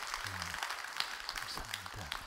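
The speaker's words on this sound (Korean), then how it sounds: "다시 한번 여러분 박수해 주셔요" A church congregation claps for a few seconds, scattered, uneven hand claps sounding under soft background talk and murmuring.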